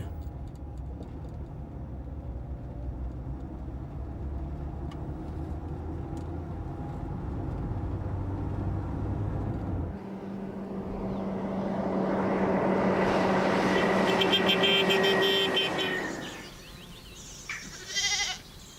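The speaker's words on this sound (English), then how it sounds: "Truck traffic linking the coast to Marrakesh" Truck traffic on the road from the coast to Marrakesh across a green plain: a heavy vehicle swells in from a distance, roars past loudly and fades, over low outdoor rumble with animal bleats.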